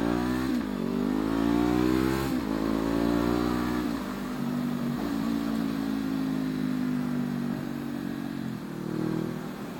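A Honda CB500F motorcycle engine runs loud and close while riding, its pitch climbing through repeated rev-ups with brief dips between gear changes, steady throttle holding a droning note near the end; no talking.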